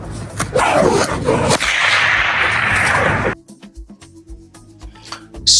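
A whip cracking, slowed down: a long, loud rushing swish of air fills the first three seconds, then cuts off abruptly, leaving quieter low rumbles and faint clicks.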